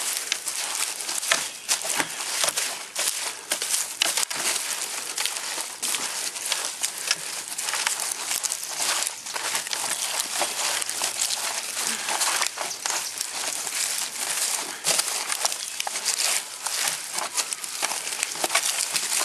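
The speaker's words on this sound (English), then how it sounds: "and go ahead and start mixing it around." A compost pile is stirred and turned by hand after water is poured on to keep it moist, making a steady, close crunchy rustling and crackling that runs without pause.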